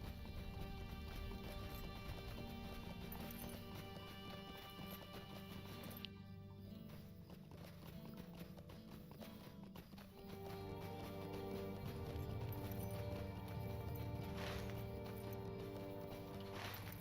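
Horse hooves clip-clop in the Lord of the Rings Online game, steady and fairly loud under a continuous musical game soundtrack, no talk.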